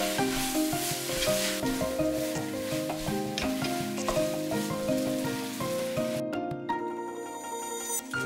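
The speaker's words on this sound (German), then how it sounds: "Salatstreifen nur ein paar Sekunden braten." Lettuce strips sizzle briefly in a pan with fried Mie noodles and scrambled egg, a steady hiss under prominent tonal background music that thins out near the end.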